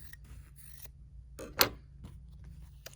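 Scissors snipping through fabric during a bear-making sewing project, a few close, crisp cuts with one sharp loud snip near the middle over a low steady hum.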